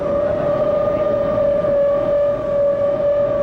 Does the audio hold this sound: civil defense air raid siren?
yes